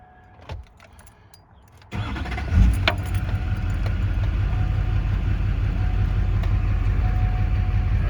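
A 2003 Chevrolet Silverado 2500HD diesel with a glow plug heater module cranks briefly after faint clicks, fires up with a loud surge, and settles into a steady, close rumbling idle.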